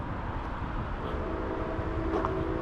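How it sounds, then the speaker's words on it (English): A train rumbles in the distance, somewhere beyond a highway with mountains in view near Hixson, Tennessee. The low, steady roar carries a faint horn-like tone near the end and is heard alone, without talk. "You can hear the train coming,"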